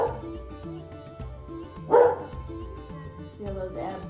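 A pup gives a short bark or yip, with one distinct burst midway and a fainter one near the end, sitting over a steady music bed.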